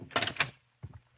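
A door opens with a short burst of rattling, clattering latch and hinge noise, followed by a quieter second knock-like clunk, close and isolated.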